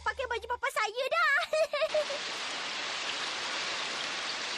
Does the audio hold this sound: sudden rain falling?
yes